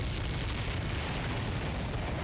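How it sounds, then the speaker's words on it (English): Continuous, heavy rumbling explosions from the Ace Combat X: Skies of Deception aerial combat game fill the clip, a dense, loud, unbroken blast roar with no pauses. "The explosions sound really, really good in this game."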